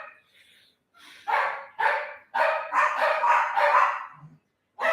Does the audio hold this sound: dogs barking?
yes